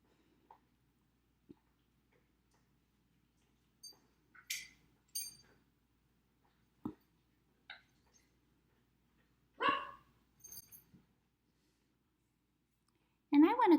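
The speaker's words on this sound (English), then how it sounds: "Must be from all those doggies barking." Dogs barking at a distance, a few scattered short barks and yips spread over quiet stretches, faint and intermittent.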